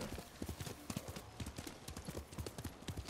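Steady clip-clop of horse hooves at a walking pace in the video game Ghost of Tsushima, fairly close and moderately loud, with regular rhythmic footfalls throughout.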